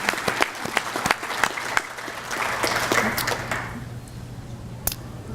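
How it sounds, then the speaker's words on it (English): Applause at a Veterans Day breakfast, moderate crowd clapping with distinct sharp claps standing out, swelling then thinning out toward the end over a low steady hum. "let's give our friends at DMS a big round of applause"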